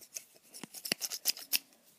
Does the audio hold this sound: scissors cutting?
yes